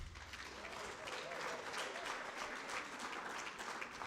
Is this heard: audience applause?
yes